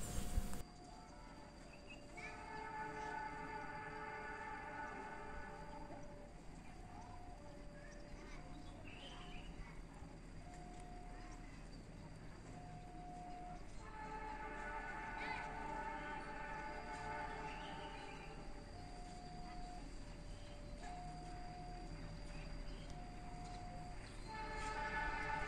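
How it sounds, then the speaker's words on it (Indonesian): Turangga passenger train sounding its horn signal while approaching a station track, with repeated steady horn tones faint and distant over constant station and rail ambience for most of the stretch. "Samar-samar terdengar semboyan 35 dari kereta api Turangga."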